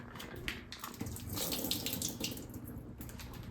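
Water pours out of a buffalo mozzarella container into a sink, a short close trickling splash that swells briefly in the middle before tapering off.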